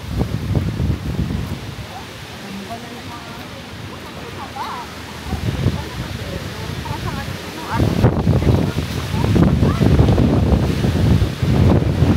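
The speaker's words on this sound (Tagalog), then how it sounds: "Lumakas na po ang hangin." Strong wind buffets the microphone by the sea in New Zealand, a broad low roar that swells and gusts louder toward the end, with surf-like rushing underneath and no clear talk over it.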